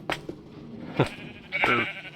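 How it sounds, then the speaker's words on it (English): Sheep bleating on a farm in a video game, several short separate bleats close by, the last one longer and wavering, with no talk over them. "we don't have all the sheep in it yet, but we have quite a few in here already"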